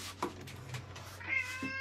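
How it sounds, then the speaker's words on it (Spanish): A cat gives a short, fairly faint meow over a low background hum, with a few soft clicks before it, heard from an anime scene. "Ha dicho miau el gato."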